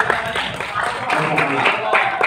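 Students on a study tour at Bank Indonesia clap in a quick, lively round of applause close by, with a voice talking over the clapping.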